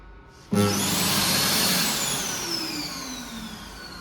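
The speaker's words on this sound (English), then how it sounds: "The dryer is brand new and that is the shutdown." A loud hand dryer motor roar starts abruptly, then its whine slides downward in pitch and gradually fades as the brand-new dryer winds down.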